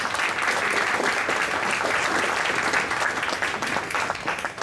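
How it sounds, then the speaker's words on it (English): Dense, steady applause from an audience honoring award recipients at the MD-11 awards ceremony, a full round that holds evenly before easing slightly at the close. "Round of applause to our award recipients."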